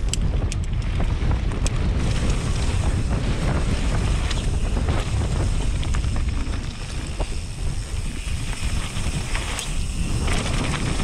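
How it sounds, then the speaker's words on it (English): Strong wind buffeting a microphone during a mass-start mountain bike race at Antur Stiniog: a loud, steady roar and rumble of gusts that never lets up, with no one speaking. "Obviously minus the wind."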